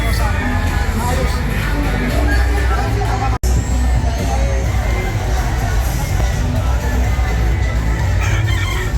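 Roosters crow amid a dense, loud background of many birds and crowd babble, with voices talking throughout.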